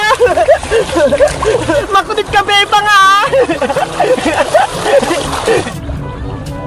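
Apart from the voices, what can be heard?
water splashing on a person bathing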